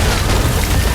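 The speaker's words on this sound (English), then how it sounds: "they made an enormous ice gun that could pick out targets with a laser and fire an ice bullet right at them" A huge movie ice gun fires an ice bullet, a loud, dense, booming blast that fills the whole short moment without any voices.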